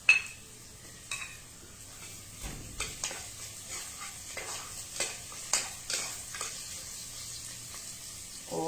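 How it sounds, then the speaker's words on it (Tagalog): Ginger added to a pork-leg and mung bean soup pot and stirred, giving a run of soft scraping and clinking strokes at a steady pace, fairly faint, with a low kitchen hum underneath. "And then, we add the ginger."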